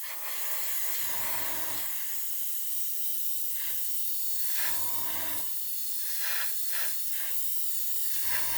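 Japanese MRP lacquer paint sprayed onto a model cockpit, short bursts of close, steady airbrush hiss in several passes, with a low compressor rumble between them and no talking.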